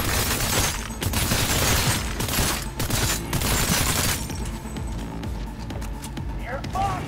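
Gunfire in a video game with dense bursts of rapid shots and booms, loud and close for several seconds before thinning out, while a player talks over it.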